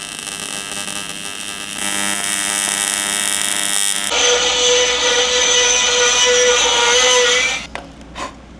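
Steady, loud high-pitched grinding inside a 90-degree aluminum coolant pipe bend on a supercharged V8 box truck, running continuously for several seconds before cutting off, with a couple of brief trailing touches.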